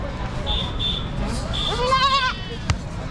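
Goats bleat at a large goat and sheep market in Chakan, Maharashtra, with several short calls and one longer wavering bleat close by, under a busy crowd and someone talking.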